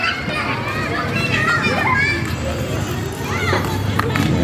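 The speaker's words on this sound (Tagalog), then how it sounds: "Mga bata naglalaro." Children play outdoors, with a steady mix of shouts, squeals and high chattering voices at middle distance over a continuous background bustle.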